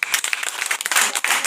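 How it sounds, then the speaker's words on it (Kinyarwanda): A brief burst of applause from a family gathering at home for Christmas, a dense patter of hands clapping close by for just over a second. "amashyi"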